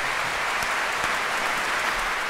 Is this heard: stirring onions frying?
no